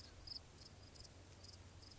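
Crickets chirp in quick repeated pulses, high and thin, over a quiet low hum of background noise.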